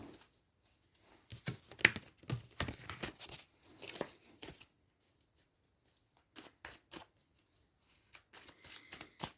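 A deck of cards being shuffled, heard as several bursts of rapid riffling and slapping separated by short pauses, fairly close and moderately quiet with no talking.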